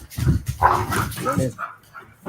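Several pet dogs bark and whimper close by, giving short yips and woofs mixed with a voice talking over them in a home.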